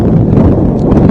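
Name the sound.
strong wind blowing on microphone at soccer field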